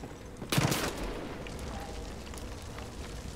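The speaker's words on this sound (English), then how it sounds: "They're calling in the mortars." A mortar strike in Far Cry 5 lands as a single booming blast with a rumbling crackle, followed by a low, steady roar of gunfire and fire in the game, with no talk.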